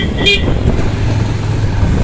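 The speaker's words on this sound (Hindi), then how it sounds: "अभी देखो ट्रैफिक बहुत ज़्यादा लगा है" Heavy road traffic in India heard from a Bajaj Pulsar 150 motorcycle ride, with a short horn toot near the start over a constant engine and roadway rumble.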